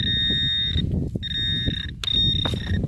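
A metal detector pinpointer gives three sustained high electronic beeps, separated by brief pauses, while held over a buried object in Sakhalin soil. Rustling and scraping handling noise continues underneath.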